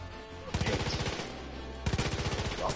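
Automatic gunfire in the video game Far Cry 5: two loud bursts of rapid machine-gun shots, one starting about half a second in and another after a brief lull, close and dominant.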